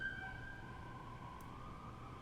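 A faint, distant siren wails steadily under a low background rumble, with no voices.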